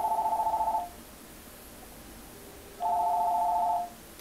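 Two bursts of a telephone ringing, each about a second of rapid electronic warbling tone separated by a quiet gap of roughly two seconds, moderately faint against a soft background hiss.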